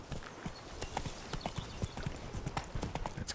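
Roach, a horse in a video game, trotting with rapid, steady clip-clopping hooves, close and continuous, without talk.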